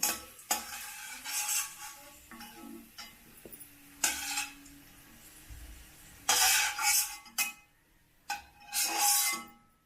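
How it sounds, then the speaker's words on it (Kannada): Raisins and cashews frying in ghee in a pan, with intermittent bursts of sizzling and spoon stirring and clinks against the metal, close and fairly quiet, no talking. "ದ್ರಾಕ್ಷಿ ಗೋಡಂಬಿ ಹುರ್ಕೊಂಡಾಗಿದೆ"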